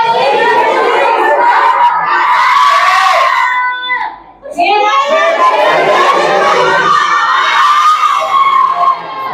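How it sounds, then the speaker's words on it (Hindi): Church congregation in a Haryana Christian service shouting and cheering together, a loud continuous crowd roar of many voices with a brief dip midway before swelling again. "खाली चिल्ला रहे हो क्या?"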